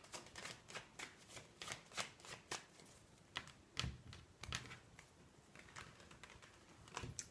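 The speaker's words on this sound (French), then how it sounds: "Allez, on tire 5 cartes." Tarot cards are shuffled and drawn by hand, a quiet, close series of crisp riffling flicks and slaps in an irregular rhythm, with no talking.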